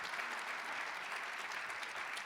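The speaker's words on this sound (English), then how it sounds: "Give him a round of applause." Steady applause from an audience at an evening conversation event fills the whole stretch, dense clapping at an even level without a break.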